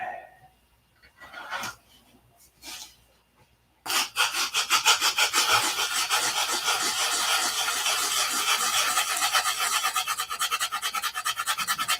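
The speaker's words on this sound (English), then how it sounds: "I need the 80 grit. I'm not going to spend all day sanding that." Coarse 80-grit sandpaper rasps rapidly back and forth across wood, close and loud, after a few quiet scrapes and a pause.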